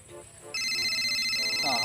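A telephone rings with a steady electronic tone that starts abruptly and continues loudly, with faint background sounds before it begins.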